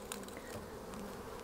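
Honey bees buzzing around hive frames in a spring colony, a close, continuous drone of many wings that keeps a steady level with no voices.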